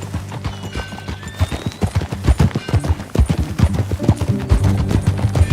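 Hooves clip-clop in quick, irregular clusters as a horse moves in the Red Dead Redemption 2 video game, loud and close, with a brief high whinny rising over the steps.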